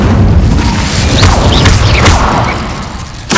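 In the Hogwarts Legacy video game, an Incendio fire spell goes off as a loud, booming burst with rumbling crackle and whooshing flares over a few seconds.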